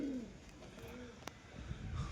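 A male and a female racing pigeon coo softly and briefly, faint and close, with light background noise.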